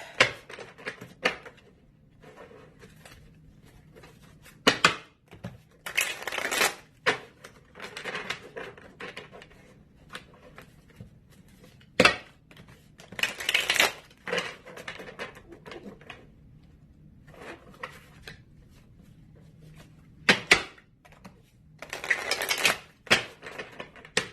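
Tarot cards riffled and shuffled in repeated short bursts, crisp and close, with quiet pauses between the flurries.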